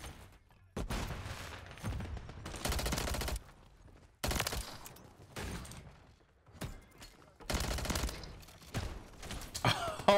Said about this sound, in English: Oh my God, stop shooting.